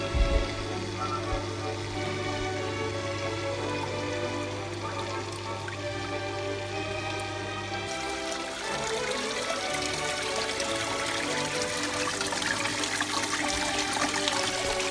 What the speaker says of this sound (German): Damit spüle ich dann den Schlauch und den Auslauf des Wasserfalls